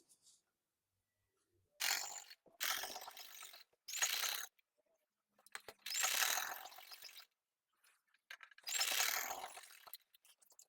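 Sewing machine stitching the lining of a straight salwar, running in several separate bursts of a couple of seconds each with quiet pauses between, close and fairly loud.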